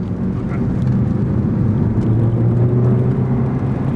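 A stock 2018 Ford Focus ST on a race track, its engine droning steadily and loudly with a low, continuous hum and slight rises in pitch, heard from inside the car with no talk.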